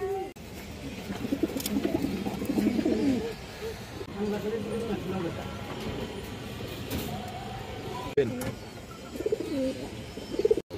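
Pigeons coo at a breeding farm, their throaty calls recurring in short bursts over a busy, noisy background.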